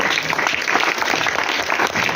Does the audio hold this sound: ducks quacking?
no